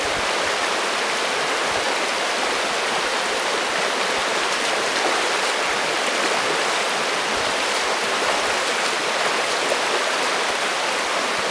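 A stream flowing between its banks, a steady dense rush of water that stays loud and close without a break, heard alone with no voices.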